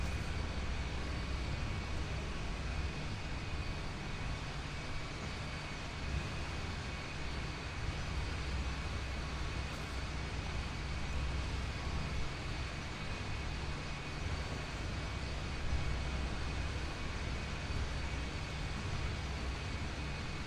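Steady, continuous drone of MD-80 airliner engines in a flight simulator game, a broad even roar with a low rumble underneath, holding at constant loudness throughout with no voices.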